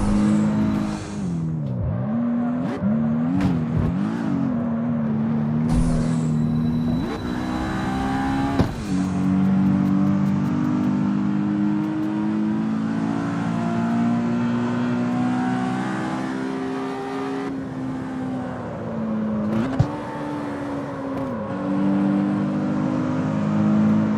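A car engine revs in the CarX Street racing game, an underpowered car straining during a drift attempt, its drone rising and falling steadily throughout with sharp throttle blips.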